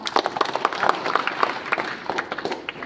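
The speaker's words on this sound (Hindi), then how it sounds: "ताली बजाओ मेरी वजह से" Schoolchildren at an inter college event break into steady applause, many hands clapping at once in a dense, fairly close patter that stays even across the whole stretch, with no voices on top.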